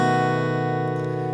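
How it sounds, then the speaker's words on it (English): A B dominant 7 chord is strummed once on an acoustic guitar, ringing steadily and slowly decaying, close and alone. "now moving on to the B dominant 7 chord"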